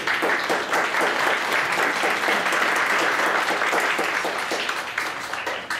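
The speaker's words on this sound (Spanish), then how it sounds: "Les pido un aplauso para ella, por favor" Steady audience applause at an academic lecture series, a roomful of people clapping for a speaker; dense, even clapping that stays loud throughout before easing slightly at the end.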